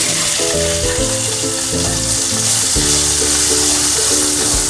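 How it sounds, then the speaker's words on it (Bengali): Chopped onions sizzle loudly in hot ghee in a pan, a steady dense frying hiss running throughout, with low clinks and taps of stirring in the foreground. "এরপরে আমি কুচিয়ে রাখা পেঁয়াজগুলো দেব।"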